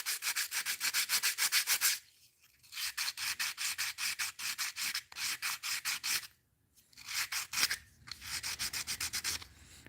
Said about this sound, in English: I will sit here for hours sanding these things